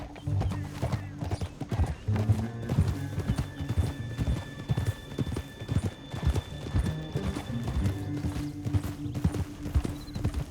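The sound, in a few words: horses galloping, hooves clip-clopping, from video game Red Dead Redemption 2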